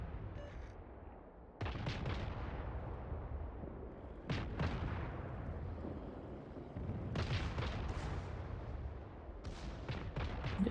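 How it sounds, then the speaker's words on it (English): Yamato battleship secondary guns firing in the World of Warships naval game, with loud booming salvos in several separate bursts over a constant rumbling battle backdrop. "Yeah, the secondaries are opening fire."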